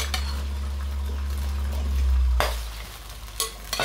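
Chicken livers frying in very hot oil in a pan, a steady close sizzle with stirring and a couple of sharp spatters and clatters near the end.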